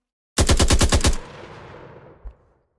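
A weapon in a game prototype fires a rapid burst of about seven loud automatic shots, then a ringing echo tails off and a single soft thud follows.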